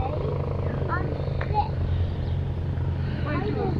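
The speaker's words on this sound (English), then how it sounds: "And we have a helicopter just coming in over there." A helicopter comes in near a small airport café, its distant rotor drone blending into a steady background rumble and ambient chatter.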